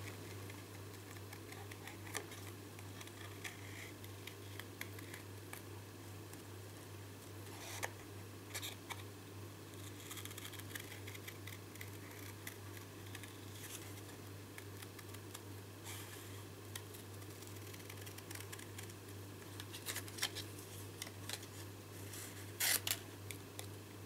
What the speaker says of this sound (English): all the time you're applying pressure on your scissors that you're actually cutting, keep your card moving.